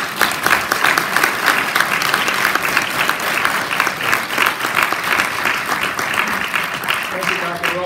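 Sustained audience applause following a keynote address on mass incarceration in Baton Rouge, dense steady clapping from a large room that continues at full strength before easing near the end.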